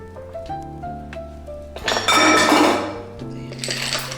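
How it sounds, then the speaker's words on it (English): Ice cubes tumble into a shaker or glass for a pineapple champagne margarita, a bright rattling clatter of clinks over soft background music. "And then we have some ice."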